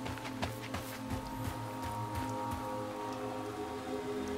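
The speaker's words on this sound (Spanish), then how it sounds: "¿Se puso a llover? ¿En este planeta llueve?" Rain pours down on an alien planet in the video game Scars Above, a steady hiss with scattered drop taps over low, sustained droning tones.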